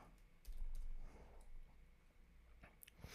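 Quick keystrokes on a computer keyboard while filling in an online account sign-up form, a run of light, faint clicks in an irregular rhythm with soft low room hum underneath and no talk.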